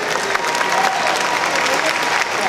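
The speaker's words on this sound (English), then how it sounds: "Let's have another round of applause for Orlando Judokai." Audience applause at a Lunar New Year festival dragon parade, greeting a Japanese judo demonstration by Metro Orlando Judokai; dense steady clapping from an outdoor crowd throughout, fairly close and loud, with no voice over it.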